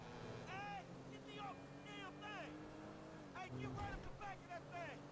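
A motorboat engine hums low and steady in the Grand Theft Auto V video game, under bursts of chirping, whistle-like tones and a brief louder surge, with talk partly over it.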